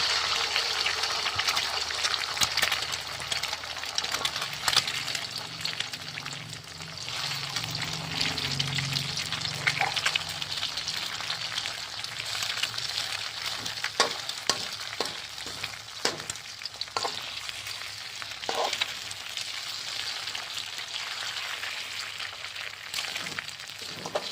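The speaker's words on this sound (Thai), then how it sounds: "จียวกระเทียม พอเหลืองหอมแล้วนะเจ้า ก็เอาไข่นะเจ้า" Egg fries with golden garlic in a hot pan for egg fried rice, giving a long, continuous crackling sizzle with scattered spatula taps and scrapes later on.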